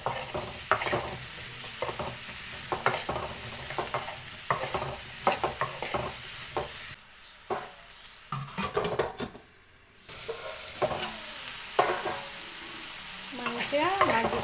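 Pieces of ridge gourd cook in a little oil in a pan, sizzling steadily while a utensil stirs and scrapes against the metal in repeated close strokes, with a brief quieter pause midway.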